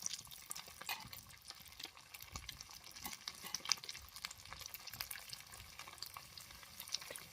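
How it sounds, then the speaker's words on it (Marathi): Semolina-coated pieces of a large fish fry in well-heated oil, giving a dense, continuous crackling sizzle with sharp pops throughout, close and fairly loud, with no talking. "चांगला फ्राय होतोय बघा पीस तेल पण मस्त तापलंय"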